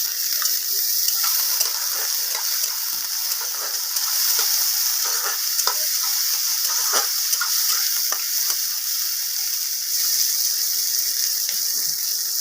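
Chopped tomato and green chili fry in a pan, giving a continuous bright hiss of sizzling oil with scattered crackles and occasional stirring scrapes, close and fairly loud, no talking.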